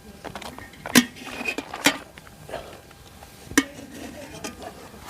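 Cold rice mixed with yeast being pressed firmly by hand into a cleaned clay pot: a few sharp clinks and knocks against the pot over soft rustling, close by, with low talk in the background.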